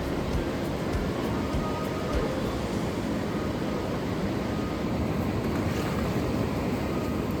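Steady, loud rushing water fills the clip, a broad continuous roar of churning Grand Canyon whitewater rapids with a windy rumble, no voices.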